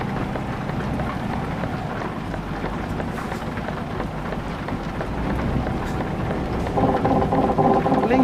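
Steady rain while driving through France in Euro Truck Simulator 2, a continuous hiss of falling water over a low rumble of the truck, growing slightly louder toward the end with a faint tonal hum.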